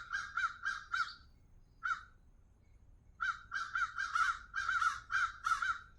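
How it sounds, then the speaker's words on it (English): Crows caw outdoors in bursts of repeated harsh calls, a short series, a lone call, then a longer rapid run, moderately distant and clear. "Birds are chatty today."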